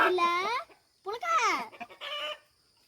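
Several loud, close chicken clucks and squawks come in three drawn-out bursts separated by brief pauses, with no speech.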